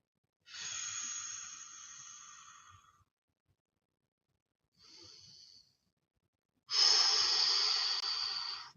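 A person breathes loudly through a full-body stretching workout: three heavy, hissy breaths, a long exhale, a short faint one, then a loud final breath, with no talking.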